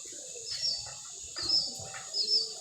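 Pigeons calling to one another at a loft, three soft cooing bursts spaced about a second apart, fairly close, with faint rustling and background noise between them.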